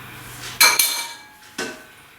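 Utensils clink and scrape against a bowl while seitan dough is mixed with broth and oil, two sharp metallic knocks close together followed by a third about a second later.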